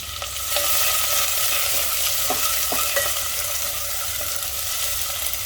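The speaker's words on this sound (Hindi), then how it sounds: "तो प्याज को इस तरह से चलाकर भून लेना है हमें 5 मिनट के लिए" Chopped onions and green chillies fry in hot oil in a kitchen pan, a loud continuous sizzle with occasional stirring scrapes, heard up close with no talking.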